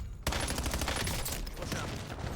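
Rapid gunfire in a video game, with loud, dense bursts of shots that start abruptly after a brief quiet moment and run almost without a break as the player takes fire.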